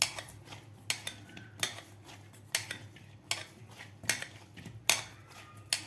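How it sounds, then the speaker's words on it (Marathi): Soaked semolina dough for sweet puri is kneaded by hand in a bowl, giving close, irregular soft slaps and knocks at a steady working pace. "आता याला थोडंसं आपण मळून घेऊया."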